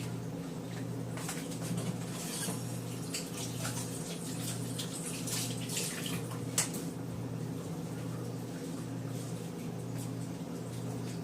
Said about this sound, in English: let me just rinse my hands real quick.